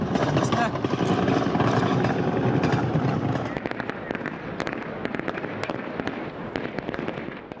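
Gunfire in Ukraine during the Russian invasion, heard as a loud, dense run of rapid sharp cracks and bangs close by over a heavy rumbling background, growing slightly sparser but continuing throughout.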